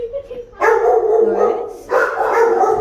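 Scooby the dog barks from inside a kennel, two loud sustained bursts of barking close by, separated by a brief lull.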